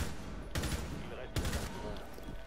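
Bursts of automatic gunfire in the video game Rainbow Six Siege, two short rapid volleys under a steady game background, moderately loud and close.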